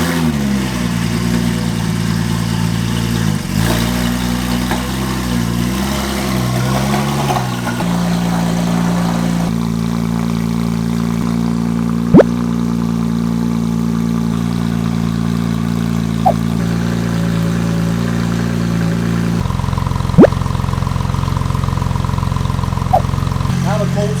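A Porsche 996 Turbo with a titanium exhaust sits at a cold-start idle, droning steadily and loudly close by after a brief settling rev, while a person talks over it now and then.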